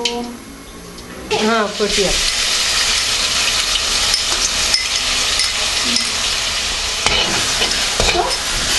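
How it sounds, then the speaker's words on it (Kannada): Onion paste fries in hot oil with a loud, continuous sizzle as a spoon scrapes and stirs it in the pan, while a person talks over the cooking noise. "ಎಣ್ಣೆಗೆ ನಾವು ಇವಾಗ ಈರುಳ್ಳಿ ಪೇಸ್ಟ್ ಹಾಕಿದ್ದೀವಿ."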